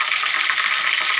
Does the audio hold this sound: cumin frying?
yes